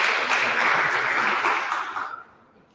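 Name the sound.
audience applause at hackathon awards ceremony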